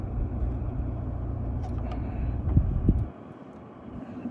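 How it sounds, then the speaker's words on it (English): A 4x4 on a sandy desert trail with stock tires, its engine droning steadily as a wheel spins on a hill, rising briefly before the roar cuts off into quieter idle and wind. "my wheel is spinning because my tire is still stock, and we have a little bit of a hill right now"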